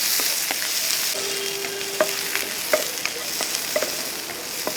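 Small onions sizzle hard in hot oil as a tempering for thari kanji, with a spoon clicking and scraping against the pan now and then, close and continuous.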